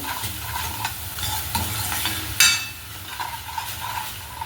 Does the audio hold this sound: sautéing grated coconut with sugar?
yes